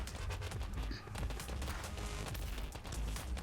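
Missile fire in the space shooter Starward Rogue crackles as a dense, rapid barrage of game weapon shots and impacts, steady and busy throughout at moderate loudness.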